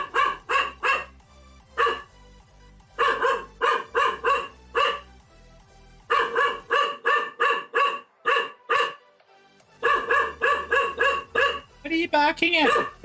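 A pet dog barks loudly and repeatedly in close, rhythmic bursts of several woofs, with short pauses between volleys, during a family-friendly live gaming stream.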